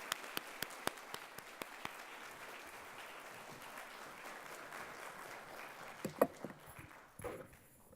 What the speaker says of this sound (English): Let's give a round of applause and welcome Arthur.